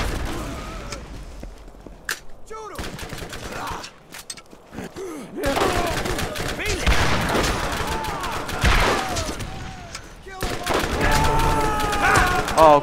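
Gunfire in the video game Borderlands, bursts of sharp shots and rattling fire in a loud, busy mix of game effects, with brief pauses between volleys and occasional vocal sounds.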